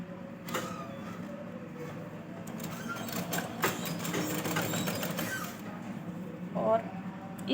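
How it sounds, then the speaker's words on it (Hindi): A sewing machine stitches the cup seam of a blouse in a quiet, steady mechanical run with faint clicks, under a voice explaining as she sews. "ये मोटा भाग के साइड आपको ये लेनी है कटोरी की सिलाई।"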